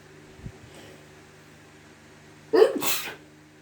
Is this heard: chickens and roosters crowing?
no